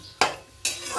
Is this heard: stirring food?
yes